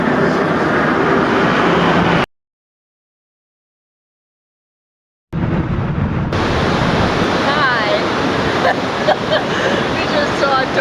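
A beautiful river in Zamora rushes steadily as a loud, broad wash of flowing water. It cuts out to silence for a few seconds, then returns with faint bird chirps over the current.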